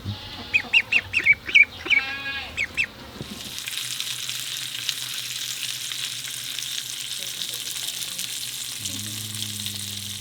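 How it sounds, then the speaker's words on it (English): Growing ducklings calling in a short burst of close, loud honking cheeps during the first few seconds, then a steady hissing, sizzling background with faint scattered sounds and no talk. "These ducklings have gotten so big they've got to be moved outside now."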